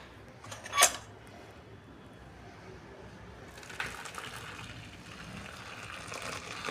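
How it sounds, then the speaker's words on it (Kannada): Boiling water poured into a chakli flour mixture, a short splashing gush followed by steady pouring and stirring noise up close, with no voices. "ನಂತರ ನೀರು ಕುದಿಯ ನೀರು ಅದಕ್ಕೆ ಹಾಕಬೇಕು"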